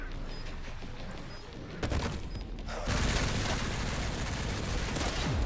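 Explosions in the video game Resident Evil 9: Requiem, a dense run of blasts and rumbling booms that builds to a loud, continuous roar in the second half.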